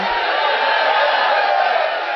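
A church congregation shouts and cheers in worship, a dense, continuous roar of many voices that stays steady and loud throughout.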